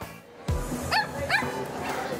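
Dogs at a breeders' show yip and bark in a few short, high calls, fairly close over a busy indoor crowd murmur.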